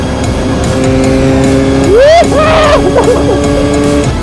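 A 125cc Mitsukoshi Eagle and Rusi Venus run at high RPM, with a steady loud engine drone and one sharp rev that rises and falls midway.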